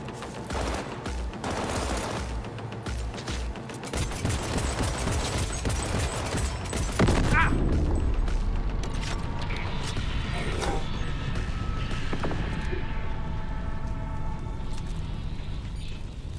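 Automated turret firing at the player in Cyberpunk 2077, dense bursts of gunfire and mechanical clatter running through the clip with crashes and a voice talking over parts of it.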